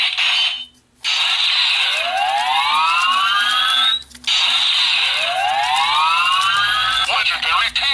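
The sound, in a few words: Power Rangers Ninja Steel Power Star toy sound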